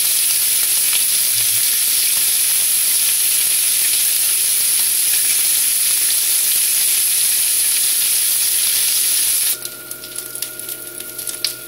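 Fish sizzling steadily in a hot pan on its second side at 120 degrees, a loud, continuous frying hiss that cuts off abruptly near the end, leaving quieter crackles.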